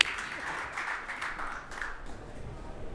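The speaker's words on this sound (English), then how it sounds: "Round of applause, please, everyone" An audience at a startup pitch event applauds as the next presenter takes the stage, a soft, fairly distant wash of clapping that stays even for a few seconds.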